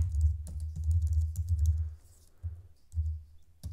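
Typing on a computer keyboard, close and fairly clear, with rapid irregular clicks in bursts and a short pause midway, no talk over it.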